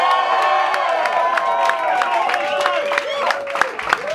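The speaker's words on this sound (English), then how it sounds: "massive round of applause for the following" Audience claps and cheers loudly, with sharp individual claps, whoops and shouted voices rising over one another in a lively, close burst.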